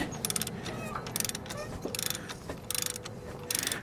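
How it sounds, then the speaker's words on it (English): A 1/2-inch flex head ratchet loosening a diesel fuel injector on a GM 6.5L diesel truck: repeated bursts of rapid clicking ratchet pawl strokes, close and distinct, separated by short pauses with faint creaking. "I'm using a 1/2-inch flex head ratchet rather than a breaker bar in this particular case."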